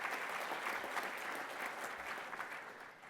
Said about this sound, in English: You guys should give him an applause.